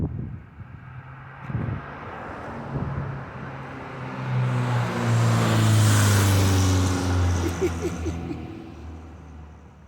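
A 1970 VW Beetle engine runs close by, idling roughly, then revving up for several seconds before settling back to idle, with some wind buffeting on the microphone.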